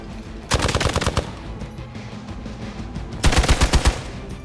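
Gunfire in the video game Marvel's Midnight Suns, two loud bursts of rapid automatic shots about three seconds apart over a low hum in the background.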